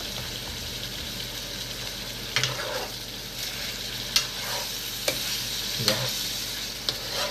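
Food sizzles in a frying pan in a home kitchen while a utensil stirs it, giving a constant hiss with a few sharp scraping clicks. A voice speaks briefly.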